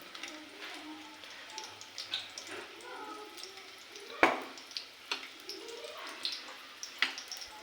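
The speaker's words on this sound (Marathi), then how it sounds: "इकडं तेल टाकलं एक पातेल्यामध्ये आणि मस्त कांदा वगैरे टाकला कापून" Steady sizzling of chopped onions frying in oil in a pot, with occasional pops and crackles over a low hiss.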